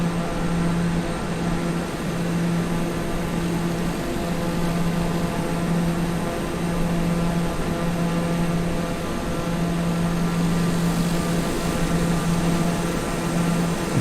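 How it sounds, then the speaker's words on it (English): Steady roaring hurricane wind in Flight Simulator 2020 at about 15,000 feet, a constant dense rush with a low engine-like hum running loud and unbroken throughout, no talk. "There's nothing more relaxing than a hurricane, than the crazy sounds of a hurricane."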